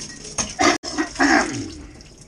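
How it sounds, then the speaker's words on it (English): A homemade bottle cleaning wand sprays water inside a bottle over a sink during mead bottling, giving several short splashing gushes close by with a brief cutoff partway through. "That's how I clean my bottles with a homemade bottle cleaning wand."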